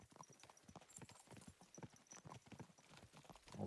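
Horse hooves clip-clop steadily in Kingdom Come Deliverance 2, a quick continuous rhythm of close hoofbeats with occasional snorts, carrying on without talk for the full stretch.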